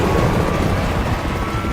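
Helicopter with a bullet hole in its body, a loud, close, continuous rotor and engine roar that holds steady throughout with no voices.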